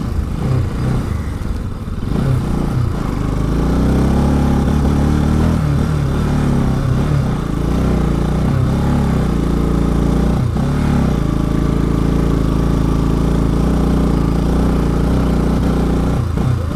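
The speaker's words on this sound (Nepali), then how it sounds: "बाइक जान्छ" A motorcycle rides a rough mountain road between Jomsom and Muktinath, with a loud, close, steady engine drone throughout, occasional clattering over the bumpy surface, and no talk.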